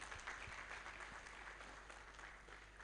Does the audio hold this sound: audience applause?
yes